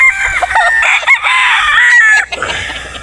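A gamefowl rooster of the Sweater Boston line on a Batangas game farm gives a loud, close, drawn-out crow that ends in a short clucking tail.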